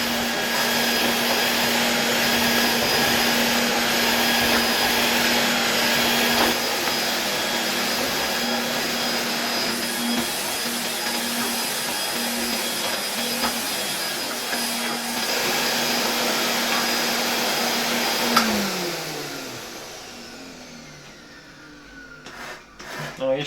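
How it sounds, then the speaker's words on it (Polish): A Hoover Constellation 867A vacuum cleaner runs on a tabletop with a steady, loud motor whine and broad rushing airflow. It winds down near the end as it is switched off. "Ale tutaj na stole przyznaję, że jestem zachwycony tym odkurzaczem i chętnie się nim tutaj jeszcze chwileczkę pobawię."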